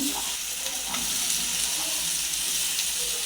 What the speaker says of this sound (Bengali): বট বসানোর জন্য পেঁয়াজ আদা রসুন মশলা যা যা প্রয়োজন দিয়ে দিচ্ছি